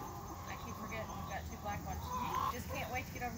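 Backyard laying hens clucking softly and intermittently, a few short calls rising over steady farmyard background noise.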